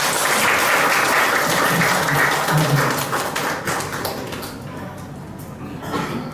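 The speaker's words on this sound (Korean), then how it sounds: "그동안 묵묵히 이문화에 열심히 지켜오신 제천의 문화 예술인들을 위해서 큰 박수를 한 번 보내주시기 바랍니다" An audience at an arts exhibition event bursts into loud, dense applause, sustained clapping that gradually thins and fades toward the end with a few scattered claps.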